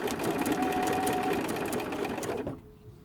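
A sewing machine machine-quilts a gathering stitch at stitch length 4, whirring in a fast, even run of needle strokes for about two and a half seconds before stopping abruptly into near silence.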